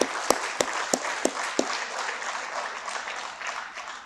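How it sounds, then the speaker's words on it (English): Audience applause in an auditorium after an inaugural address, a burst of crowd clapping with a few sharp near claps at the start that thins into a softer, sustained patter. "give a big round of applause for a very exhaustive inaugural address by Honorable Justice"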